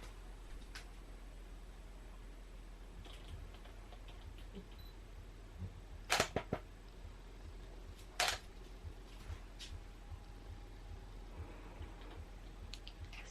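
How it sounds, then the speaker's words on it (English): DSLR camera with an external flash firing, two crisp shutter clicks a couple of seconds apart, close and fairly faint against a quiet room hum, with small handling ticks around them. "just press the shutter as I'm doing that"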